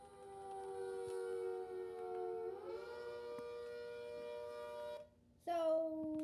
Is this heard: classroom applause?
no